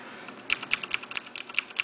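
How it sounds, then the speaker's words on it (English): A clicky MK80 mechanical keyboard is typed on, with about a dozen sharp, crisp key clicks in an uneven rhythm, close and fairly quiet, with no talk. "MK80, you hear the click click click."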